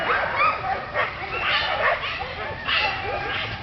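Sled dogs running free before a walk in Willow, Alaska, bark, yip and squabble in a busy overlapping tangle, several animals close by and fairly loud throughout, with whines mixed in.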